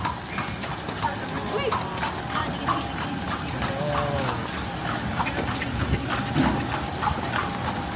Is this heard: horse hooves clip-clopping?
yes